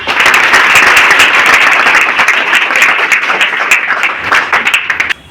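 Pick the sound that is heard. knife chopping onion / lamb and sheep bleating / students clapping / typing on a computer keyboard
students clapping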